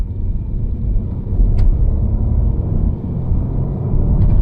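A 2015 BMW 328i F30 with 245 horsepower accelerates on a test drive, a loud low engine and road rumble from inside the cabin that surges and holds steady.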